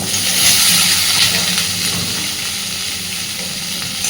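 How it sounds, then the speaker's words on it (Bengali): Potato pieces and onion fry together in hot oil in a pan for a Bengali bhola fish jhal, giving a loud, steady, close sizzle that holds throughout with no talking. "আলুটাকে দিয়ে পেঁয়াজের সাথে একসাথেই ভাজতে থাকবো"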